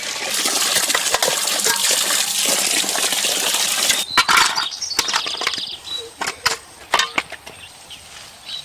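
Turmeric-soaked fish is rinsed in water for an outdoor village fish curry, with loud, steady running and gushing water for about four seconds, then scattered splashes and light clinks.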